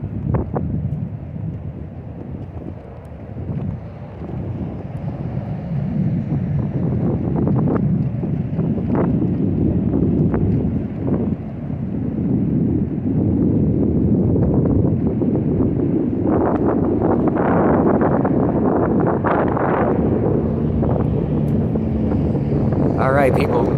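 Wind buffets a microphone outdoors, a steady low rumbling roar that surges and gusts throughout, with muffled voices and traffic-like noise beneath.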